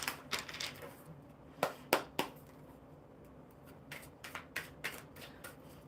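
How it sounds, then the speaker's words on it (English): Tarot cards being shuffled during a live coffee-and-cards chat, a series of sharp riffling snaps and soft card slides in uneven bursts, close and clear with no voices. "So I want to do the tarot first, and then I'll shuffle that love cards for you."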